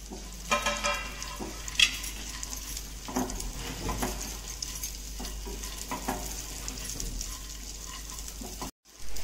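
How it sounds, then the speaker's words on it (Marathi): Dry fruits roasting in a tablespoon of ghee in a hot pan, a steady close sizzle with repeated stirring scrapes and little crackles throughout, no voice, ending in a brief cutoff. "तूप घातल्यावर सगळे ड्रायफ्रूट्स आपल्याला तुपात भाजून घ्यायचे"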